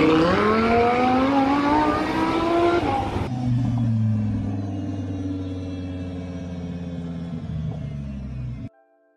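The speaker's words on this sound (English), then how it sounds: "V10 engine." A Lamborghini Huracan police car with a 610-horsepower V10 engine revs hard, its pitch climbing loudly and then dropping into a deep, steady rumble that fades away near the end. No one speaks.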